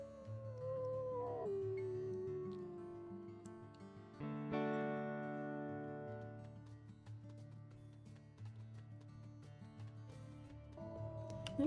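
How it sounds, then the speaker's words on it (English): A wolf in the video game WolfQuest gives long, drawn-out howls, each held and gliding in pitch, fairly close and clear over a soft, steady game soundtrack, with no talking. "She can hear Kayla howling for her, making sure she's okay."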